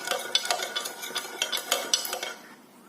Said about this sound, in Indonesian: Setelah itu aduk sampai rata.